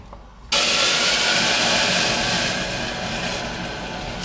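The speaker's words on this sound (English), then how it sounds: "Boiling water" After a brief quiet moment, a loud steady hiss and rolling bubbling of water boiling in a pan for broad beans starts abruptly and continues, close by.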